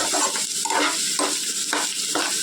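Spices tempering in hot sunflower oil crackle and sizzle loudly and steadily, the hiss pulsing in quick, regular waves as the pan is stirred, close up with no voices.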